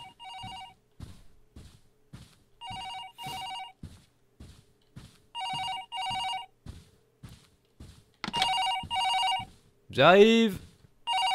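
An old-style telephone bell rings in repeated double bursts inside a video game, loud and steady over a background of rhythmic thumps, with someone talking briefly near the end.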